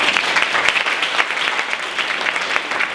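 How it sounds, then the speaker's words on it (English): A seated audience breaks into warm, even applause, a dense continuous patter of many hands clapping close by without voices rising above it. "So give him a round of applause."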